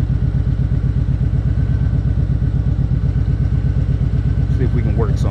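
A 2020 Suzuki Hayabusa motorcycle engine runs steadily and loud nearby with a fast, even pulsing throb, and someone speaks briefly over it near the end.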